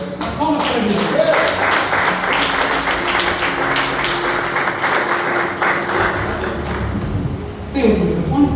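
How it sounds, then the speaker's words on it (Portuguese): A worship congregation claps together in church, steady rhythmic clapping that runs for several seconds under voices and tonal music, ending in a short pause and a brief final burst. "As palmas para Jesus."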